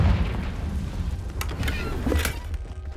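A Confringo fire spell in Hogwarts Legacy lands as a dull, rumbling boom with a crackling blast tail, heard close and loud over steady low game ambience.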